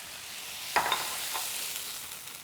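Beef stir fry sizzles in a pan with a steady hiss, broken by a sharp clatter of the next batch going in and a few softer scrapes afterward.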